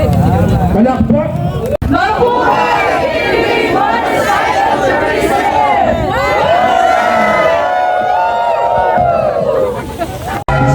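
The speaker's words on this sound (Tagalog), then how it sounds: "palakpak!" A large crowd at a 2023 ride event in Iloilo cheers and shouts loudly and steadily for about ten seconds, with a dense babble of many voices throughout and a brief dip near the start.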